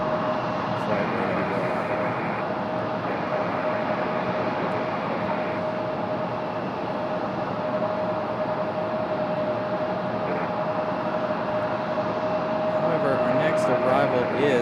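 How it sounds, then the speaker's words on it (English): A Copa Airlines Boeing 737-700 arrives at Raleigh-Durham International Airport, a steady distant jet engine roar with a faint whine, broad and constant across the whole stretch, heard from outside. "This is Copa 466 coming in from Panama City, Panama. 737-700 this time."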